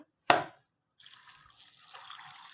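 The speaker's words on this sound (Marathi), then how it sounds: "आता मी पाणी ॲड करणार आहे याच्यामध्ये" A short knock, then a steady stream of water pouring into a pressure cooker, running continuously at moderate volume.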